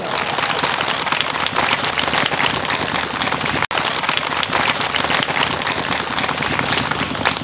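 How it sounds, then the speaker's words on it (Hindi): Loud, dense clapping from a large crowd at a religious gathering and sermon, with a sharp momentary break midway before the applause carries on. "ताली खड़का दे जोर से"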